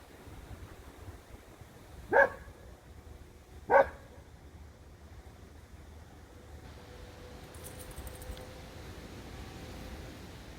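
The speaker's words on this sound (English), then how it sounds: "And the dog has to bark." Two sharp dog barks, spaced about a second and a half apart, over faint outdoor background noise.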